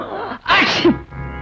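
A single loud, sharp sneeze bursts out close by, preceded by a quick intake of breath, then quiet.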